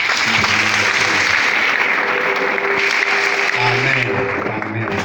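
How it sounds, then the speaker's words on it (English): Worshippers in a hall clapping their hands for the Lord during a morning church service, a loud, sustained wash of applause with faint tonal sounds underneath. "Let's worship the Lord with a hand clap this morning."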